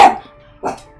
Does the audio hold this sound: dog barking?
yes